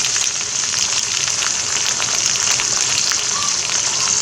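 A loud, dense sizzle of green chilli and garlic paste frying in oil, a steady close hiss with only faint stirring texture running through it.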